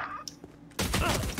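Gunfire in the tactical shooter game Valorant: a few faint, sharp cracks early on, then a loud, dense burst of sustained shots and impacts filling the last half-second.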